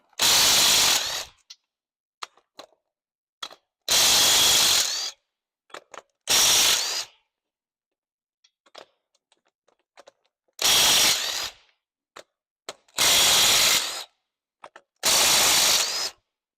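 Impact wrench during a teardown of a Mopar LA 360 engine. There are six loud bursts, each lasting about a second, and quiet stretches between them hold small clicks and clanks from handling parts.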